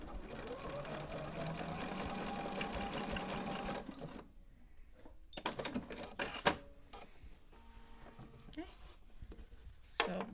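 A Bernina sewing machine running a 9mm-wide stitch, steady rapid mechanical whirring and clatter for about four seconds, then stopping, followed by a few scattered clicks and handling noises while a person talks.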